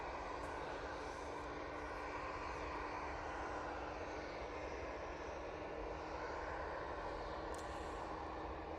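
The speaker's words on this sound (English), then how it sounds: "we've got the Jet2 A321neo going off to Antalya" A Jet2 Airbus A321neo takes off at Manchester Airport, its jet engines a steady, distant broadband roar with a faint whine, unbroken and even for the whole stretch, with no talking.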